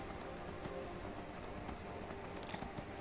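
Horse hooves clip-clop in a steady trotting rhythm in the Skyrim video game, fairly close and continuous over a soft ambient background, with no talking.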